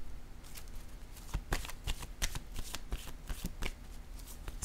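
Tarot cards being shuffled by hand close up, a fast run of crisp riffling flicks and soft slaps, with no talking.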